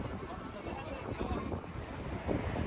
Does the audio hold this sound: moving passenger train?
no